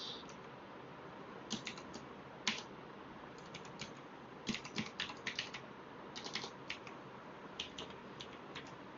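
Someone types Python code on a computer keyboard, producing quiet, irregular bursts of clicky keystrokes that come and go in short flurries with brief pauses between them.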